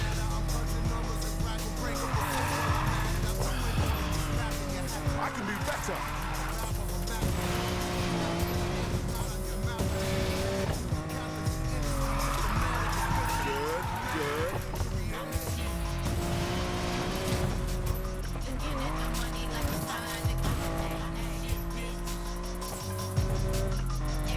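Cars roar through a race in the video game Need for Speed: Payback, with engines droning and revving continuously and tires squealing at intervals, loud and sustained throughout.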